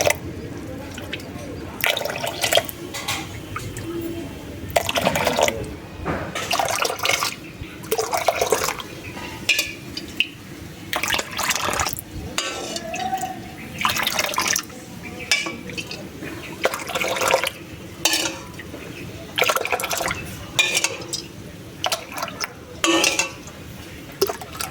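Watermelon pudding mixture poured and scooped into a hollowed watermelon rind, with repeated close clinks and scrapes of utensils against bowls and soft liquid pours, under steady talk.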